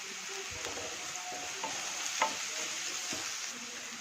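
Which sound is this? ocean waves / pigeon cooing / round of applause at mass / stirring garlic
stirring garlic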